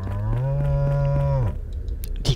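A cow in the fantasy video game Sacred gives one long, loud, close moo of about a second and a half, ending abruptly, with no talk over it.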